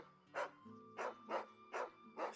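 A dog in Final Fantasy XVI barks five times in an even rhythm, each bark short and distinct over a faint background of game ambience.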